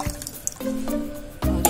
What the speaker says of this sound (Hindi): शक्कर भीगने तक के लिए पानी डालेंगे